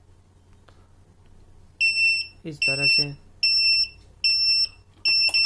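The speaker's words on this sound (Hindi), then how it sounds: "फिर 15 सेकंड में अपने आप बजर बजना चालू हो जाएगा" A door interlock panel buzzer sounds automatically in repeated shrill electronic beeps, roughly five short bursts in an even rhythm, loud and close, with someone speaking briefly between them.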